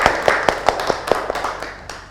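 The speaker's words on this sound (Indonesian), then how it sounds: "Beri tepuk tangan untuk teman kalian yang sudah bersedia menyimpulkan" Classmates in a classroom applaud a fellow student, a short burst of sharp, irregular claps from a small group that thins out and fades over two seconds.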